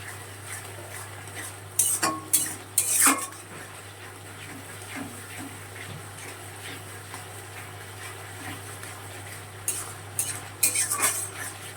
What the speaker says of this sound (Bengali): দেখো মশলাটা কিন্তু অনেকটাই ভাজা ভাজা হয়ে গেছে।